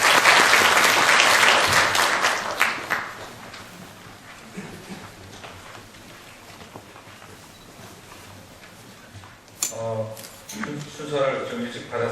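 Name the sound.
audience applause welcoming a speaker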